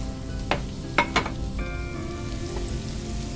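Vegan sausages and onion fry in a pan for Nauruan fried rice, a quiet, steady sizzle broken by a few sharp clinks and taps from stirring.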